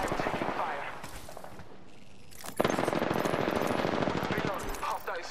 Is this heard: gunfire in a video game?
yes